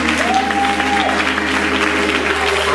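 Audience applause at an anniversary choir concert, a steady wash of clapping from a crowd with a faint sustained tone running beneath it.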